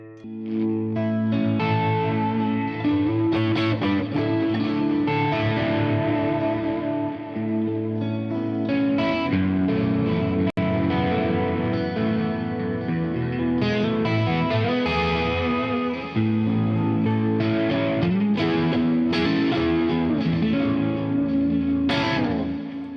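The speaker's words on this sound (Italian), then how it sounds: "Metto un chorus, magari tolgo lo shimmer, cambio tipologia di delay e metto un riverbero." Guitar played through a Quad Cortex with chorus, delay and reverb effects plus distortion, a continuous loud wash of sustained, swirling chords and notes with echoing tails throughout, no talking.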